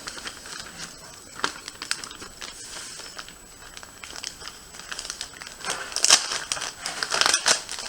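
A Ziploc freezer bag being handled and crinkled at a fly-tying bench, close, irregular plastic crackles and rustles that grow busier and louder toward the end.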